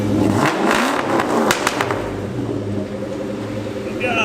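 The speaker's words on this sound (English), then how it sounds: "You want me to give a quick rev to scare everyone in the neighborhood?" A modified, non-stock car engine revs hard with a roaring burst, then settles into a rumbling idle; close and loud.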